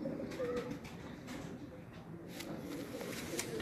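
Soft, repeated cooing from a show-quality pigeon carries over a quiet, noisy background, with brief low murmurs and no clear speech.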